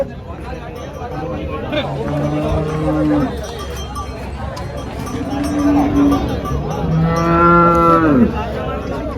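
Several HF cattle moo loudly in long, drawn-out calls, one after another, over a steady background of crowd chatter at the Chalisgaon cattle market.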